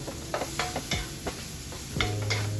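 Shiitake mushrooms sautéing in a pan, a moderate sizzle broken by several stirring scrapes and light clatter of a utensil against the pan, close up and without speech.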